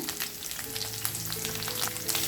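Garlic, curry leaves and green chillies crackle in hot oil for a tempering, a steady dense sizzle with scattered sharp pops, close and fairly quiet, with no voices.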